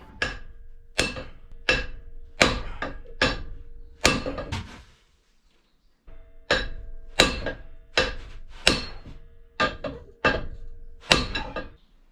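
Aggressive hammering on a seized boat windlass: sharp metallic blows in irregular bursts, a pause, then another volley, close and loud with no talking.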